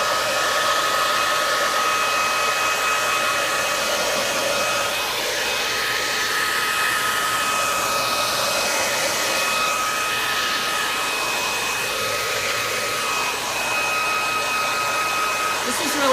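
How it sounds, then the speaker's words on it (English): Hairdryer running on its low setting, blowing with a steady, loud, continuous whoosh for the whole stretch with no pauses. "I'm actually going to use a hairdryer"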